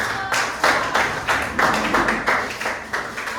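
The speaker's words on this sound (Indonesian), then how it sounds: "kita kasih tepuk tangan semua" Several people in a classroom clap together in short, uneven bursts that rise and fade, moderately close, with no talk over it.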